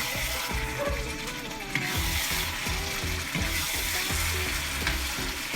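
Eggplant stir-fried with canned fish in a pan, a loud continuous sizzle with rhythmic scraping and clanking of a spatula against the pan, close and steady throughout, no talking.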